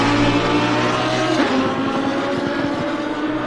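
Race cars lap Watkins Glen in a PC racing game from the Super Trofeo series, the engines giving a loud continuous roar that swells and drifts as cars pass on the track.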